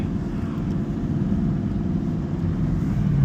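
Chevrolet Camaro ZL1 engine pulling hard under acceleration, a steady deep exhaust roar heard from inside the car, droning loud and constant throughout with no talk.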